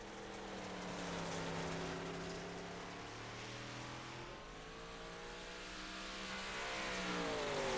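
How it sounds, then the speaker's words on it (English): Race cars circle the track at Weedsport Speedway, engines droning steadily with rising and falling pitch as several cars pass, a continuous moderately loud roar with no talk. "We don't have the car sounds on."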